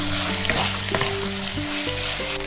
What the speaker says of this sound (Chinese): 再翻炒一下